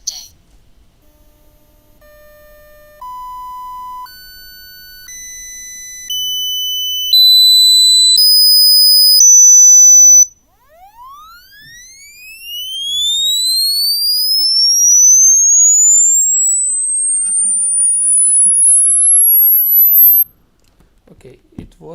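A piezo buzzer beeps through a stepped sequence of pure tones, each pitch held and climbing, then sounds rising sweeps that glide steadily upward, loud and close with no voices over it.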